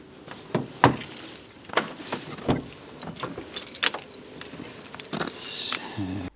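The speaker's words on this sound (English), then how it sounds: "I have my keys." Keys jangle close by in several sharp, bright bursts spread across the moment, with faint car and road noise underneath, while a driver prepares to set off in freezing winter weather in Germany.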